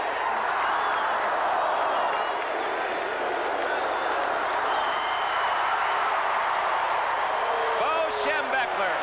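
A packed stadium crowd at the 1981 Rose Bowl in Pasadena, Michigan against Washington, roars loudly and steadily through the final seconds of the college football game, with an announcer talking over the din.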